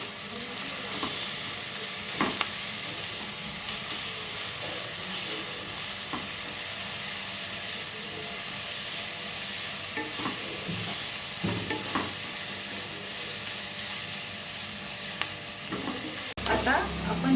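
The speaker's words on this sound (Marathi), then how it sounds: "आता आपण हे बारीक चिरलेले लसूण आणि अद्रक टाकून घेऊ आणि परतवून घेऊ" Finely chopped garlic and ginger sizzle over a high gas flame while being stirred in a pan for Schezwan noodles, a steady frying hiss broken by faint scraping knocks.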